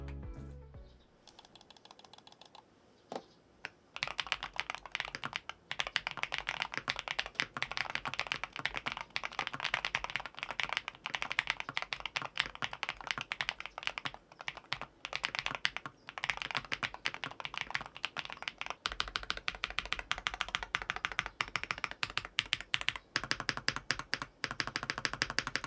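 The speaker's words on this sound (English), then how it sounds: "here's a little sound test with the switches and the keycaps on" Typing on a Chilkey Slice75 HE magnetic keyboard with Gateron Magnetic Jade Pro switches and keycaps, after a few isolated presses, becomes a fast continuous stream of crisp, close clacks.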